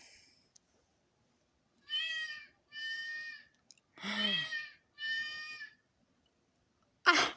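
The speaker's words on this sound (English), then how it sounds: "like we need another cat meowing" A cat meows four times in a slow, evenly spaced series, close and clear against near silence, followed by a short sharper cry at the end.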